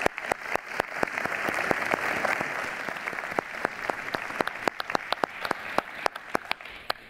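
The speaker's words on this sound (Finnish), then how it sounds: "annetaan iso aplodi sekä meidän arvovaltaiselle upealle paneelille että yleisölle." An audience at a league's opening event gives a crowd's applause for a panel, a steady wash of many hands with louder individual claps standing out near the microphone, tapering slightly toward the end.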